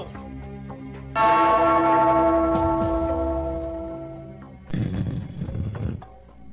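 A large bell struck once, ringing out loud and close with a long, slowly fading metallic hum, followed by a second, shorter clang near the end; no voices.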